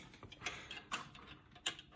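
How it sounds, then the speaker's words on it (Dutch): Jennings Governor slot machine mechanism running, a quiet busy clatter of gears and ratcheting parts with several sharper clicks and knocks in quick succession. "Dus we gaan nu eventjes een beetje spelen met de Jennings Governor slotmachine."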